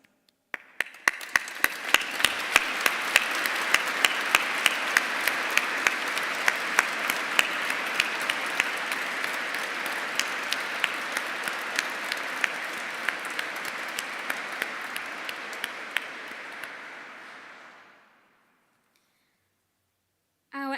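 A graduation ceremony audience applauds inside Canterbury Cathedral at a University of Kent ceremony. Dense, steady clapping from a large crowd fills the vaulted space for about seventeen seconds, then fades out and stops.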